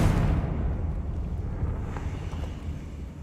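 A Confringo fire spell exploding in Hogwarts Legacy: a deep booming blast that starts loud and rumbles away over about three seconds, heard alone.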